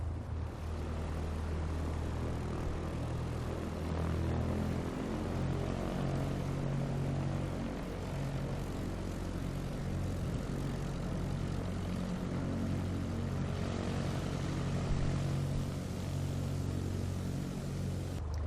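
A Piper Warrior light propeller plane engine in Microsoft Flight Simulator drones steadily at idle, a low throbbing hum holding constant throughout with no talking.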